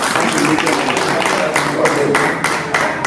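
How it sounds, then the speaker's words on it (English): People at a school old boys' reunion clap for themselves, a close, loud round of hand claps with distinct sharp bursts and voices mixed in throughout. "Let's clap for ourselves"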